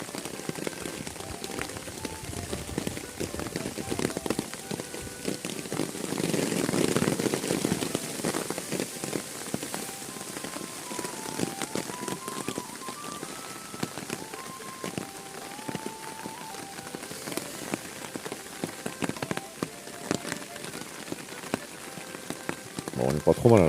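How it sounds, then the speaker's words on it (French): Steady rain patters on a shelter overhead at a forest bivouac, a dense crackling hiss that continues throughout, with faint distant voices beneath it. "En fait, je crois qu'il pleut, les amis."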